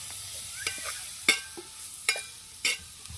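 Stirring tomatoes into a broad bean curry in a pot over a village wood-fired stove, with a few distinct spoon scrapes and clacks spaced over a soft, steady sizzle.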